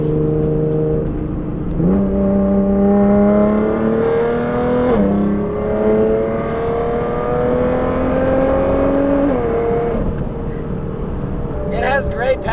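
A Nissan GTR with a stock turbo accelerates hard from inside the cabin, its engine note rising steadily through gears with clear shift breaks, loud and close, with people talking over it.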